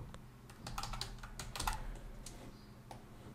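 Soft, close keystrokes tap irregularly on a computer keyboard as text is entered into a PC form field, quiet and alone without speech.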